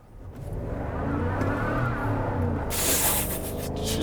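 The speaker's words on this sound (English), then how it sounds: "Just did a nasty burnout." A 2023 GMC Yukon Denali Ultimate SUV in rear-wheel drive with traction off does a burnout: loud, sustained engine roar and tire hiss build after a quick start and hold for several seconds close by.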